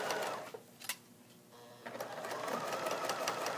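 Close sewing machine running a straight stitch around a hem, with a whirring burst, a short pause and clicks, then a steady longer run to the end.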